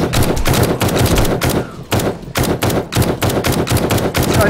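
Rapid bursts of automatic gunfire in the zombie survival game 7 Days to Die, loud and close, firing in repeated volleys separated by brief pauses.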